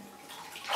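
Water splashes in a bathtub as a face is rinsed, a brief close swish of bright, washy sound rising at the end.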